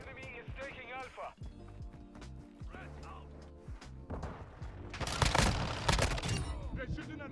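Gunfire bursts in Modern Warfare 2 multiplayer, sporadic shots early then a loud, dense volley near the end, with announcer voices and game sounds throughout.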